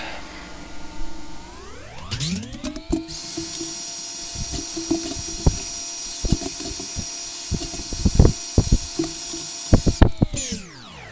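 A power drill with an 8.5 mm bit bores all the way through metal stock. The motor pitch sweeps up as it spins up, then holds a loud, steady whine with crunching cutting noises before it winds down at the end.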